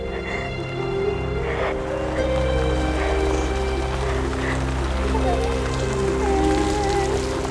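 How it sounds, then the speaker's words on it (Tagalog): Steady rain pattering on a surface, building heavier partway through, with a faint voice in the background. "Lumalakas na ulan."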